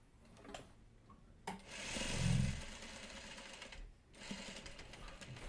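A sewing machine stitches the last seam of a Farmer's Wife Jackknife quilt block, a close rapid mechanical whir that runs a few seconds, pauses briefly, then starts again.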